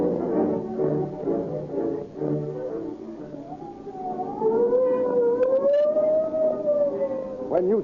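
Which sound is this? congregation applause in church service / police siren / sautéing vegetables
police siren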